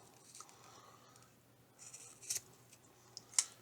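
Three Vikings paracord snipped indoors in an office, a couple of quiet, sharp cutting snips near the end over a faint, still room background.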